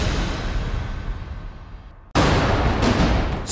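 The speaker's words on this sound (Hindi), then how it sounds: "यहां पर लगातार पाकिस्तान मोर्टार बरसा रहा है।" Mortar fire along the India–Pakistan border, a sustained roar of rumbling blasts that drops off, then a loud, close detonation bursts in and keeps booming.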